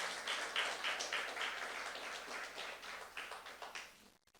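A church youth congregation applauding, a soft continuous patter of many hands clapping from some distance, fading out at the end.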